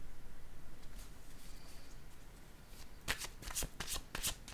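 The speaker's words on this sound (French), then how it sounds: "Je vais maintenant choisir une carte." Playing cards are handled and shuffled during a card reading, a close burst of crisp riffling flicks in the last second and a half after soft rustling and background hiss, with no talking.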